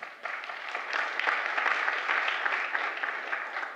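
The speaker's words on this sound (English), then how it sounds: "Let's give a big round of applause to Dave." Conference audience at a monitoring tech event gives a sustained round of applause for the next speaker, steady dense clapping from start to finish.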